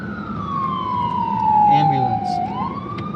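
A police siren in Tucson, Arizona wails from nearby traffic, a long falling tone that dips and then rises again, heard alone for a few seconds.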